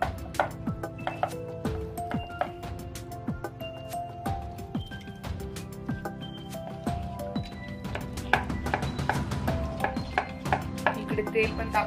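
A knife slits green chilies for mirchi bhaje in a home kitchen, giving repeated sharp taps and cuts against a board, mixed with clinks of dishes and utensils throughout.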